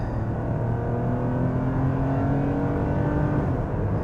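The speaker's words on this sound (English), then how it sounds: "It accelerates so well for being such a normal crossover." A Toyota RAV4 V6 crossover accelerates hard, heard from inside as a loud, steady engine roar climbing in pitch, with no talking.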